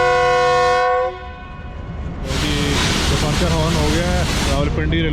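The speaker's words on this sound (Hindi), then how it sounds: "डिपार्चर हॉर्न हो गया है रावलपिंडी रेलवे स्टेशन से" A loud, sustained train departure horn blasts for about a second with rich harmonic tones at Rawalpindi railway station, followed by rumbling station noise and a second long, wavering horn sound.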